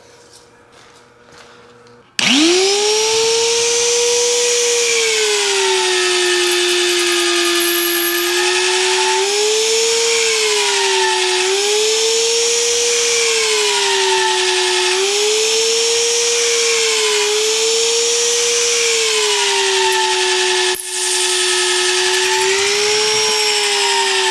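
A power drill bores into the steel frame of a 4700 dump truck, starting abruptly and whining loud and close for about twenty seconds, its pitch wavering as the bit bites.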